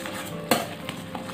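A spoon stirs a pot of fresh sago palm starch dessert from southern Thailand, making soft, close scraping and a sharp clack against the pot, with a couple of lighter knocks after.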